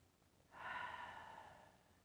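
A single soft, drawn-out breath, an audible exhale that rises quickly and then fades slowly over a quiet background.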